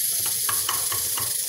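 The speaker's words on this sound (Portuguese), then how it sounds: "Aí eu tô fritando aqui. Eu vou fazer o arroz. Dourar o arroz aqui." Rice browning in oil in a frying pan, a steady close sizzle with a few rhythmic stirring scrapes about every quarter second, no voices.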